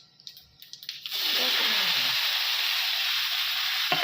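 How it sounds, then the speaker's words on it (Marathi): Cumin and curry leaves hit hot oil in a tempering for a bitter gourd dish, bursting into a loud, steady sizzle after a few faint clicks and staying close and constant until the end. "आणि फोडणीला आता कढीपत्ता, जिरं."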